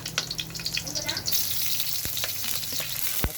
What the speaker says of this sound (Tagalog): painit po tayo ng mantika. At igisa natin yung bawang. Tsaka ang ating sibuyas.